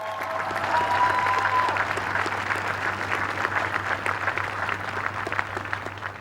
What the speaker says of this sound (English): Can we just give one more rousing round of applause for our new president